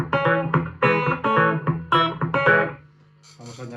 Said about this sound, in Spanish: Esto sería sin eco.